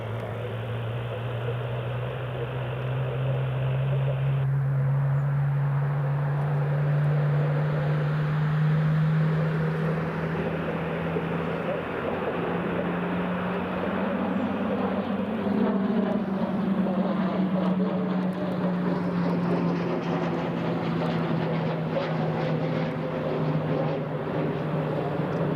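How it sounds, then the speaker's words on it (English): A Grob Tutor propeller trainer departing from Newcastle International Airport: a steady, droning engine hum with a slowly rising pitch as it climbs away, sustained and moderately loud throughout. "the first Grob Tutor is just departing now. So it just lifted off there."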